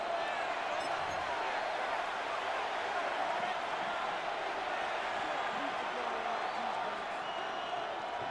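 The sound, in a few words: stadium crowd cheering in Madden NFL 26 video game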